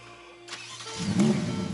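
A 2020 Ferrari F8 Tributo fires up: a brief starter whir, then the engine catches with a rising mid-range roar that settles into a loud, steady idle close by.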